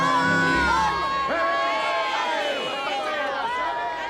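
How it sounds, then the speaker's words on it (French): An impatient stadium crowd at a Yankees baseball game in a Madeline cartoon set in New York shouts and cheers, a dense, loud roar of overlapping voices and whoops that holds steady throughout. "la foule s'impatientait"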